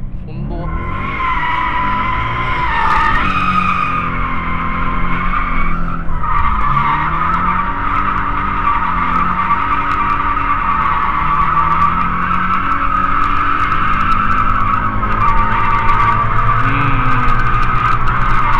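A Toyota 86 drifting, its tires skidding in a loud, sustained screech with shifting pitch over a revving engine, continuous and close throughout.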